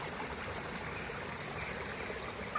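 A stream flows steadily toward a big lake, a continuous soft rushing and trickling of water heard from a bridge outdoors, even and unbroken throughout.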